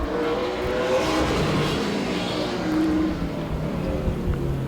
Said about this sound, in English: Both drivers taking the green flag for their qualifying laps.